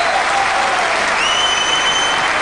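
Snooker crowd at the 2004 Masters final applauding a terrific shot, steady loud clapping sustained throughout without a break.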